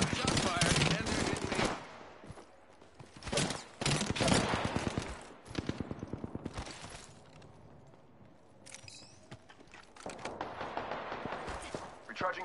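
Video game gunfire hitting the player, with bursts of rapid automatic fire coming and going over about twelve seconds, some volleys loud and close, others sparser, separated by quieter gaps.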